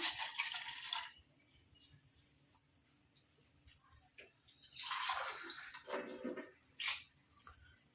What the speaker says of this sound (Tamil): இதில் வந்து நம்ம ஒன்றரை டம்ளர் அளவுக்கு தண்ணி சேர்த்துக்கலாம்